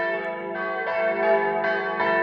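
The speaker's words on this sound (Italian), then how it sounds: "stanno suonando le campane, è bello ascoltare il suono melodioso delle campane" Church bells ringing in Ipplis, Premariacco, Italy, in overlapping, resonant peals, each strike swelling and lingering into a sustained, melodious tone.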